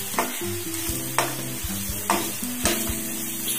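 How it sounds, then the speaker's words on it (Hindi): Turmeric being stirred into a poha mixture in a hot pan, with a steady sizzle of frying and several distinct scraping strokes of the spoon at regular intervals, close and fairly loud with no talking. "हल्दी डालने के बाद उसे अच्छी तरह से मिक्स करना जरूरी है दोस्तों"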